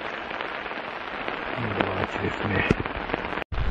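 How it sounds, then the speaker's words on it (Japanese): Steady rain falls outdoors beside a temple among tall cedar trees, a dense continuous patter close around, with someone speaking briefly over it and a few sharp drip-like ticks near the end. "どうもこれは雨がちょっとでもやんでくれやいいんだけど、ダメだな、これは。"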